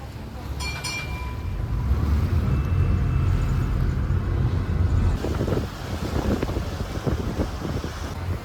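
A passenger boat's engine drones steadily and loudly on a backwater trip through Kuttanad to Alappuzha, with wind buffeting the microphone throughout and no talking.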